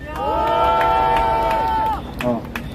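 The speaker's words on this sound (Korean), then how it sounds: "큰 박수 부탁드리겠습니다" A rally crowd protesting US–South Korea joint military drills sends up a loud, sustained collective cheer for about two seconds; it then drops off into scattered voices and noise.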